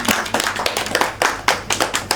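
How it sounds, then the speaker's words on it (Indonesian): Small classroom group clapping for a student during a geography lesson, a short burst of distinct, close hand claps in an uneven rhythm, with no talking. "tepuk tangan dulu dong buat Fatan."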